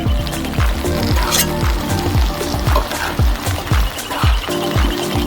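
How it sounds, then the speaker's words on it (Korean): Potatoes frying in plenty of oil in a frying pan, a steady close sizzle broken by regular scraping stirs every half second or so, with no talk over it. "프라이팬에 기름을 넉넉히 두르고 감자를 볶아요"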